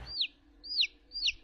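Male turkeys in a barn of about 500 birds on a farm in Fereydan county, Iran, give three rising-and-falling high calls in even succession, clear and fairly close against a quiet hum.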